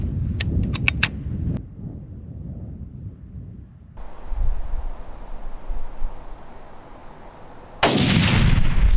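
A rifle shot fired toward a distant target while hunting mule deer outdoors: after wind and faint handling noise, one loud sharp report cuts in near the end.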